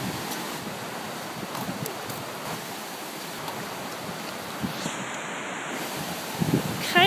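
A small creek swollen into a lake during a 100-year flood in Lafayette, Colorado rushes and churns as a steady, fairly faint wash of moving water, mixed with wind buffeting the microphone.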